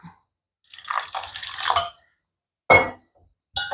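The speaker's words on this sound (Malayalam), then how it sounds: "വെള്ളം ഒഴിച്ചു കൊടുക്കാം." Water splashes as it is poured into a pan of jaggery to make syrup: a steady pour of about a second, then two short splashes, nearby with no talking.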